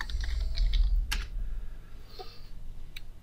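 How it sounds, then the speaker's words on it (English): Typing a search term on a computer keyboard, a close burst of quick key clicks followed by a few scattered taps and a single sharper click, over a low background hum, with no one talking. "you can actually use the search bar. And I'm going to type in back pain."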